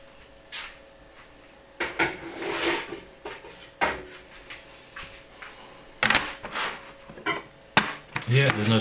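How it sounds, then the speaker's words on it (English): Chopped apples for apple wine drop into a pan in a series of separate clattering knocks and thumps, with quieter shuffling between them and uneven pauses. "I'll just drop these in the pan"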